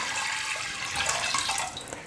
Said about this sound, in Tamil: கடலைப்பருப்பை கழுவி குக்கரில் சேர்த்ததுக்கப்புறமா தண்ணி சேர்த்து நம்ம வேக வச்சுக்கலாம்.